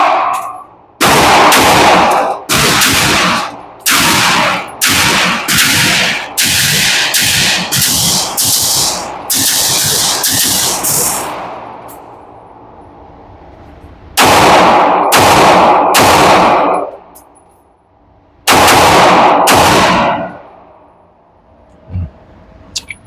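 Ported Canik pistols fire at an outdoor shooting range, loud sharp shots in quick strings and double taps, a rapid burst of about a dozen followed by shorter pairs and triples after pauses.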